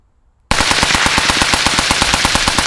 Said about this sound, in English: We're gonna let it shoot real fast, real quick, see what type of blowback we're getting with a tuned gun.